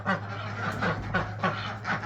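White Pekin ducks on a farm give a few raspy, nasal quacks in quick succession over a steady low hum of background noise.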